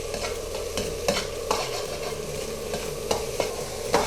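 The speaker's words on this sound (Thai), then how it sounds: "จากนั้นก็ผัดนะครับ" Rice with fish sauce is stir-fried in a pan, with repeated sharp scrapes and knocks of a spatula over a continuous close sizzle, no voices.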